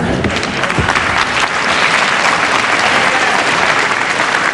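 A British wrestling crowd at a World of Sport bout applauds loudly and continuously, a dense sustained clapping that fills the arena throughout.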